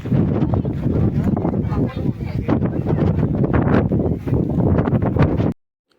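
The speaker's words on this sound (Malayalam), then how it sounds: "അതേപോലെ നല്ല കാറ്റടിക്കുന്നുണ്ട് ഗൈസ് ഫോണൊന്നും പിടിക്കാൻ വരെ പറ്റുന്നില്ല" Strong wind buffets the microphone on the Ponmudi hilltop, a loud, continuous roaring rumble that holds for several seconds and then cuts off abruptly.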